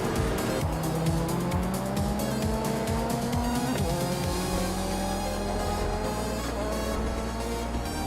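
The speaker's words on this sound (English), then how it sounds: "Tugonit DTV is driving a 1995 Vauxhall Cavalier" Racing video game engine sound of a 1995 Vauxhall Cavalier race car, a steady loud whine rising through gears with tire squeal, continuous and close throughout.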